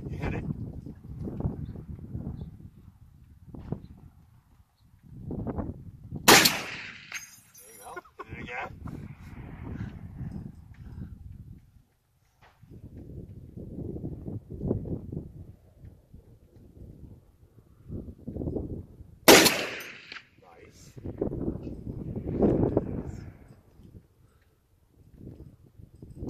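A .50 caliber Barrett rifle fires two loud, sharp shots outdoors, spaced well apart, each with a short rumbling echo, while people talk between them over wind noise.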